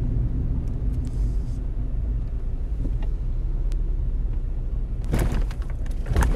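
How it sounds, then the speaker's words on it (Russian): A car crosses a railway bridge, heard from inside as a steady low road rumble with a sharp clattering jolt near the end. No one speaks. "Железнодорожный мост проезжаем."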